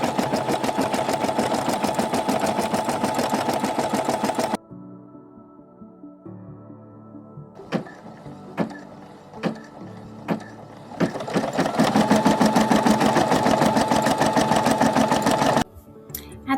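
An embroidery machine stitches the final thread color of a full-color logo, its rapid needle chatter running loudly, breaking off for a few seconds of sparse clicks and short bursts, then resuming its steady stitching drone.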